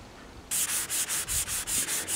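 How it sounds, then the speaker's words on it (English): Rhythmic hand sanding on a wooden gun stock, about eight steady back-and-forth rasping strokes, close and fairly loud with no talking. "I'm just finishing off sanding the stock in preparation for refinishing"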